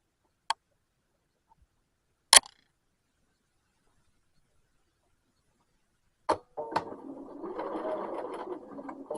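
A sewing machine stitching a shirt collar corner, with a few sharp isolated clicks followed by a short burst of steady mechanical whirring near the end; close and fairly quiet.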